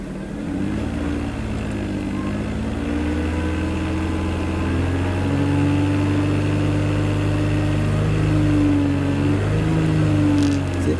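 A Toyota Sienna engine with a catalytic converter fault hums steadily up close, its low drone rising slightly in pitch as the throttle is pressed without much gain in power.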